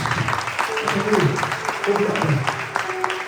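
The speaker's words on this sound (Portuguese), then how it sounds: "Você pode dar uma linda salva de palmas para Jesus?" Applause for Jesus from a church congregation during a worship service, steady clapping sustained throughout under a voice speaking over it.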